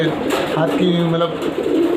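A pigeon coos softly in low, rolling notes, heard under a man's nearby conversational speech in Hindi.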